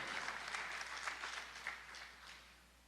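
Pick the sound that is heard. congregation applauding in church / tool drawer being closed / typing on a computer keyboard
congregation applauding in church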